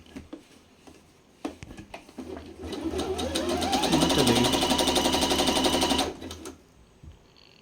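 A tabletop sewing machine runs an overlock stitch, a fast rhythmic mechanical chatter that rises for about three seconds and stops abruptly, preceded by clicks and a few soft taps while setting up.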